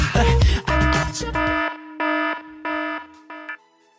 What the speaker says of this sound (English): my alarm starts